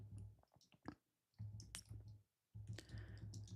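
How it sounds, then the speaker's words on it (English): Bursts of clicking keystrokes on a computer keyboard, tapped in quick irregular runs with short silent pauses between them, close and fairly quiet. "I'm typing it into my screen."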